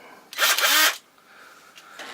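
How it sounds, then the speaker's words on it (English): A Ridgid power drill whirs in one short, loud burst of under a second during an LG air conditioner repair, followed by quieter handling noise. "Got my rigid drill."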